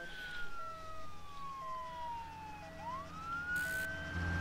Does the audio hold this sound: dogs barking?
no